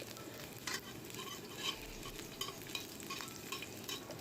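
Seven or eight garlic cloves fry in oil in a pan, a soft continuous sizzle with light stirring scrapes and small pops, fairly faint and close, no voices.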